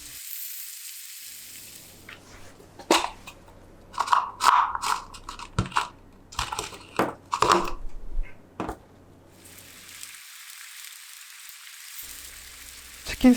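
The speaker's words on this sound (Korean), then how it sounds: "치킨 스톡이 뭉치지 않게 잘 저어주세요." Creole jambalaya with sausage, water and a crushed chicken stock cube is stirred in a pot, giving scraping, clattering stirs over a soft background sizzle, close up and moderately loud.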